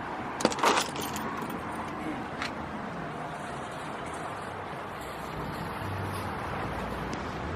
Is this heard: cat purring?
no